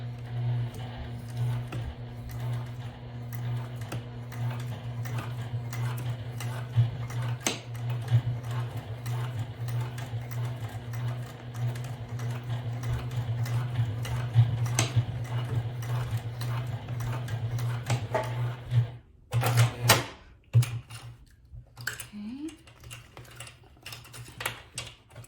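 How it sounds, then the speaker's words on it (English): A sewing machine stitches across bag strap webbing, humming steadily with a continuous motor drone and rapid ticking, then stops near the end with a few clicks and handling noises. "Now we're back to the sewing machine, and again we are going to"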